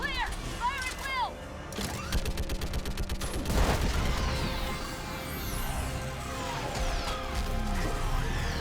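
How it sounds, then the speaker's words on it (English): An orbital strike pounds a live Reaper in Mass Effect 3: dense, rolling blasts and rapid gunfire bursts with crashing impacts and whining mechanical sweeps, loud and continuous, with game voices over it. "I need an orbital strike. We're clear. Fire at will."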